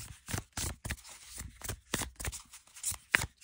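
Oracle cards being shuffled by hand, a quick series of close, crisp riffling bursts in an uneven rhythm, with no talk.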